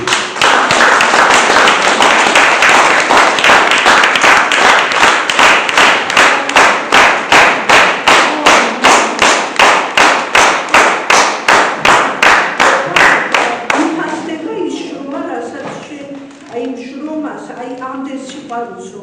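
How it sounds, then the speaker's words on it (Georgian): A crowd claps loudly and in unison, a fast steady rhythm of sharp claps lasting about fourteen seconds before it fades and a voice begins speaking. "ყველა დიდი ტაშით, დიდი სიხარულით გესალმებით"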